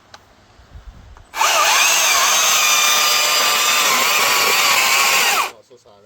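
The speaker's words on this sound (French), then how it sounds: "On va prendre une MSA 300, une autre scie électrique" An MSA 300 electric chainsaw cuts through protective chaps material in a loud, continuous high-pitched whine lasting about four seconds, with brief talk and handling noises before and after.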